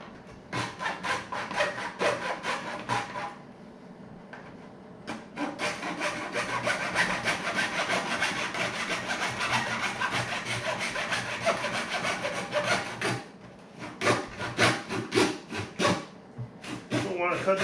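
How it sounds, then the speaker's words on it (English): A hacksaw cuts the plastic handles off a bucket in rapid back-and-forth strokes, close and loud, with short pauses between bursts of sawing. "how to cut these handles off to get them straight, but I decided to go with a hacksaw"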